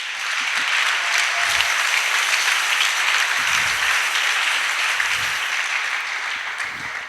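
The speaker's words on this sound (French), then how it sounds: "Est-ce qu'on peut applaudir pour les diacres," A church congregation applauds its deacons with steady, dense clapping that fills the whole stretch at an even, loud level, with no talk over it.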